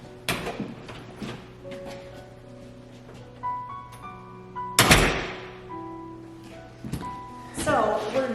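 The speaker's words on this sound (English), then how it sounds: "when the door is kind of just pushed shut, it does sound similar." A door being pushed shut, giving a close, sharp clunk in the middle and another thump near the end, with quieter knocks and creaks between and a voice speaking in the room.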